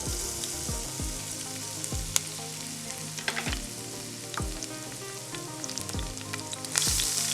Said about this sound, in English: we're going to saute the veggies in this,